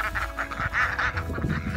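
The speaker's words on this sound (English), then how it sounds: "there's ducks over here getting a bit impatient" Impatient homestead ducks waiting to be fed, a busy overlapping chorus of loud quacking close by, continuous and restless, with no talking.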